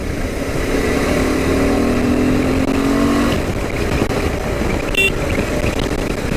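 A KTM 390 Adventure motorcycle engine revs up, its pitch climbing steadily for about three seconds before falling into a rough, steady drone mixed with road and wind noise.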